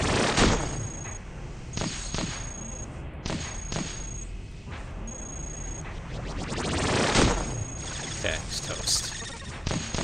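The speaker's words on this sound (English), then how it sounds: "Oh, something else is firing at us," Bursts of gunfire from enemies in the robot game Cogmind hit in repeated sharp volleys and rattling salvos, with crashing impacts, loud and dense with no talking.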